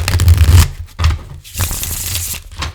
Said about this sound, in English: Shuffles like it should. That's how a deck should shuffle.